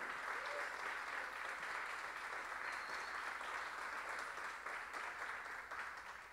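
An audience applauds at a state music composition award ceremony in Yucatán, a sustained, even wash of many hands clapping that fills the hall and fades slightly toward the end.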